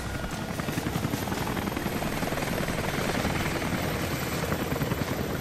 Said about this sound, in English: Got the helicopter on the rise